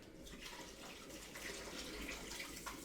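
Coffee bubbles and gurgles in a moka pot on a gas stove, a soft, continuous watery hiss with faint burbling close by.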